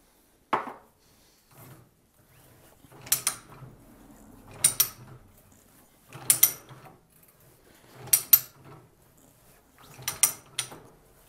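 A ratchet threader cutting thread on electrical conduit: slow, spaced ratcheting clicks with metallic pawl snaps, several strokes a few seconds apart, close and fairly quiet.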